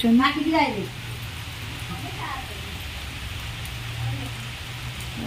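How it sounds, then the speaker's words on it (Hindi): Steady rain falls on a cold morning, a soft continuous hiss filling the background while a voice and other talk rise over it. "वर्षाटा है"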